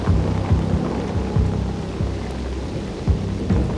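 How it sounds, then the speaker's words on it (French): Storm Klaus battering southwest France, with steady heavy rain and gusting wind and repeated low thunder rumbles and cracks rolling through at irregular intervals. "la tempête Klaus frappe le sud-ouest de la France"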